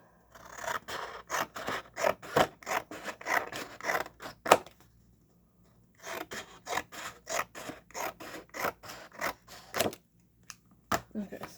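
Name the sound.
cutting small strips of black material for craft board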